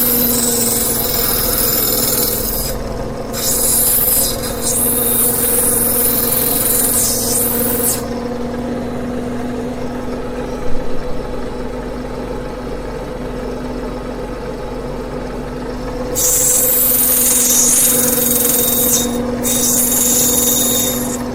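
Grinding an Australian sapphire into a preform on a lapidary wheel: a steady motor hum runs throughout, with a louder hissing grind in two stretches at the start and again near the end, close and without talk.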